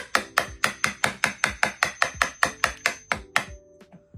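A hammer tapping on a jammed door being shaved, roughly fifteen sharp, evenly spaced knocks in a steady rhythm, close and loud, then a brief pause with a faint final tap.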